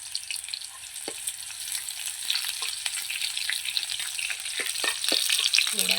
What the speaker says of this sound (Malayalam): അപ്പോൾ ചുവന്നുള്ളി മൂത്ത് വരട്ടെ